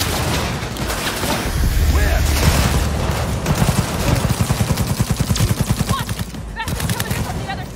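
A smart gun fires in the video game Cyberpunk 2077: loud, rapid bursts of automatic gunfire with booming impacts, rattling in a fast, regular rhythm for most of the stretch.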